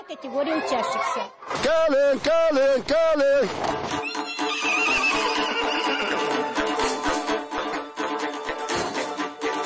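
A horse in Yakutia, Siberia, whinnies loudly several times in a rising, shaky series, followed by crowd chatter and background noise.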